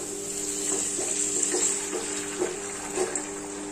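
Water is poured into a cooking pan of sautéed onions while making wheat upma, a steady gushing pour with a constant hiss and a few splashy surges, close and moderately loud, no talking.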